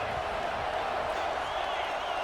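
Stadium crowd noise in an American football video game, a steady, loud roar of cheering and murmur that holds evenly throughout with no gaps.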